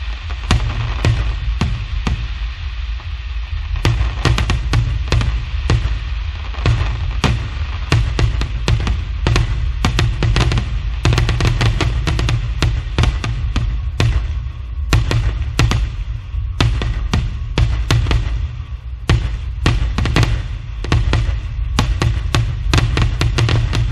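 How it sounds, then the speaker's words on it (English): Loud fireworks burst in rapid, continuous volleys of sharp bangs and crackles in a finale wall effect of white light, overlapping densely with no pauses. "a massive wall effect with the white light and the explosions over top."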